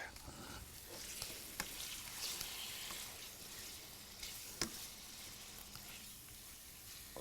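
Soft, steady sizzling of chicken chunks stir frying in a pan, with occasional faint clicks and pops, quiet and close.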